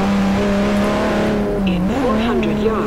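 A car engine in the video game Forza Horizon 1 hums steadily at a constant pitch, then dips and rises as it shifts, with a voice talking over it.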